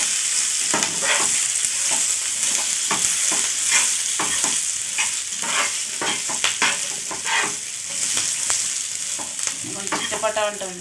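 Green chillies fry in hot oil over a medium flame for a chilli pachadi, giving a steady loud sizzle with dense crackling pops and stirring scrapes throughout, no voices.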